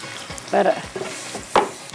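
Sliced onions are tossed into a hot pan and stirred, with sizzling bursts and scraping stir strokes, close and moderately loud, coming in two main surges.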